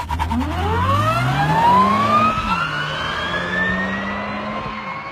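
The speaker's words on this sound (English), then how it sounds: "it gives the car an incredibly exciting turbine sound" A sports car with a Duyunova electric motor accelerates, giving a loud turbine-like whine that rises steadily in pitch over several seconds, dips as it shifts, then holds a high sustained tone.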